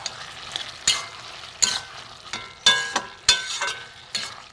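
Ash gourd chechki, a vegetarian Bengali dish with mustard paste and sugar, stirred in a pan: sharp scraping strokes of a spatula at an irregular rhythm over a soft, low sizzle, close up with no voices.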